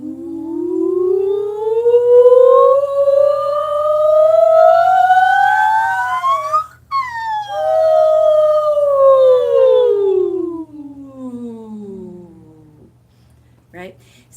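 A voice sweeping up and down in a siren breathing exercise, a loud gliding tone that rises, peaks, then falls, done twice and imitating a siren.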